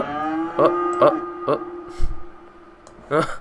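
Cows and heifers mooing in the Cities: Skylines city-building game, a long drawn-out moo followed by a series of short echoing calls spaced about half a second apart, fairly close and clear.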